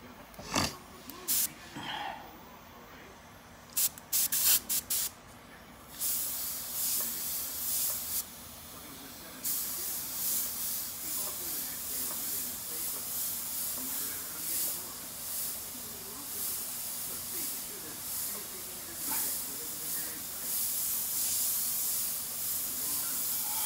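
Aerosol spray paint hisses in short bursts and then in longer steady sprays while a portrait is painted, soft and close with faint rattles between passes.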